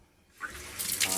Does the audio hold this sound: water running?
yes